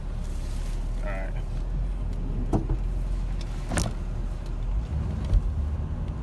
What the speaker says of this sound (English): This man Philip actually let me drive his car for like the first time ever.